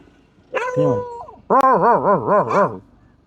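An agitated dog gives loud, close vocalizations: a few sharp yelps, then a run of wavering, howl-like whines and barks in quick succession, with no talk over it.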